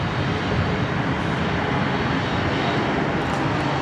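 A Batik Air airliner arriving from Bali at Sydney Airport gives a continuous, loud engine roar that holds steady throughout, with no talking.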